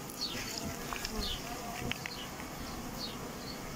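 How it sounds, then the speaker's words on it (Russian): Honeybees buzzing in flight around a hive after a swarm was taken from a trap, a continuous insect drone with individual bees passing near, under outdoor wind noise. "Пчелка немножко летает еще."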